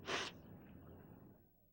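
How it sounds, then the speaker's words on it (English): A single short, breathy sneeze bursts out close by, then fades into a faint hiss. "A nose can sneeze."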